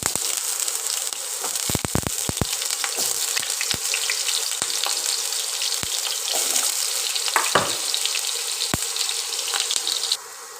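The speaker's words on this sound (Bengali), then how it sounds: "তেল গরম হলে প্রথমে আমি এই ডুমো ডুমো করে কেটে রাখা আলুগুলো ভেজে" Steady, close sizzling of diced potato pieces frying in hot oil until reddish, with occasional sharp clicks and stirring knocks throughout.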